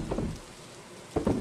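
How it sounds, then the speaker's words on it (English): Rain falling in the video game Stardew Valley, a steady soft wash running throughout, with two brief bursts of louder low thuds near the start and end. "hopefully it'll still be raining in the morning"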